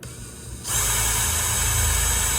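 Power drill starting up while parts of a chair are being assembled: a quiet moment, then the motor kicks in with a sudden steady high whine and low hum that keeps running to the end.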